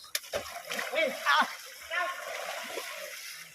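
People splash while bathing in a river in Kerala, with water sloshing and spattering close by in irregular bursts and faint voices mixed in.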